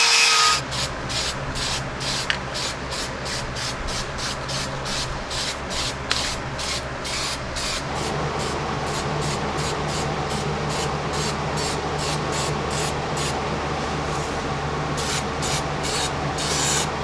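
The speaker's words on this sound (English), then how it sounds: "I'm going to paint this with some weld through primer" Weld-through primer paint sprays from an aerosol can onto a Jeep Cherokee XJ unibody rear frame section, in a long run of short bursts with a constant hiss beneath, close and loud, with no talking.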